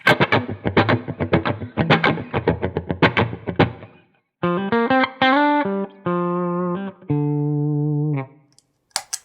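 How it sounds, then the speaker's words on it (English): Electric guitar strummed in quick chopped rhythm through a PRS compressor pedal, then several single notes ring out evenly sustained, with a compressed, punchy tone and no talking. "when you put the compressor on"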